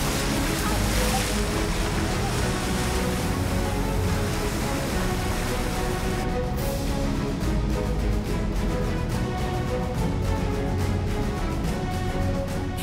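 An inflatable boat moves across the sea with a constant loud rush of water, engine and wind buffeting the microphone throughout.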